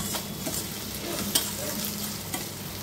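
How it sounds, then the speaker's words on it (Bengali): Ginger-garlic paste frying in a pan, giving a constant close sizzle with gentle stirring scrapes and one or two small clinks, no voices. "আদা রসুন বাটা দিয়ে 2 মিনিটের মতো ভেজে নেব, যাতে আদা রসুনের কাঁচা গন্ধটা চলে যায়।"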